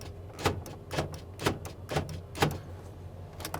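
Power door locks on a 1995 Ford F-150 Flareside pickup cycle repeatedly, a series of five or six sharp clunks at roughly half-second intervals, close inside the cab.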